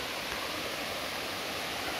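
Steady broadband rush of water running down a hillside road near a temple in McLeodganj, Dharamshala, constant and fairly close with no voices.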